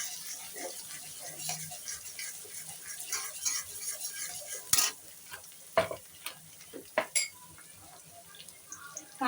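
Onions frying in a pan for veg fried rice make a soft, close sizzle, and a burst of sharp spatula scrapes and clinks against the pan comes toward the end, with no talking.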